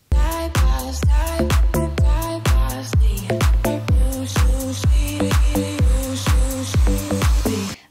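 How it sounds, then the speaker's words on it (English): Dance music with a pounding, fast, regular beat, with crisp hi-hat ticks riding over heavy low hits and bass throughout, loud and continuous. "That sounds almost like a little hi-hat"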